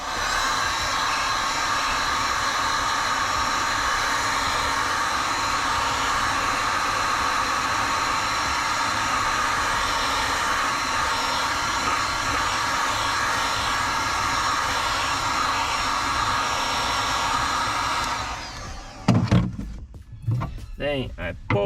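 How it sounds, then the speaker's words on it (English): A heat gun on its second setting blows hot air onto a BMW E36 car body, a steady loud whooshing hiss that runs continuously for most of the stretch before cutting off near the end. "So I'll take the heat gun, put it on setting 2 and give it a little bit of heat."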